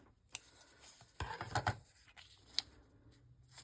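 Scissors trimming a paper envelope, a few sharp snips and rustling paper handling, close and quiet in a still room, no talking.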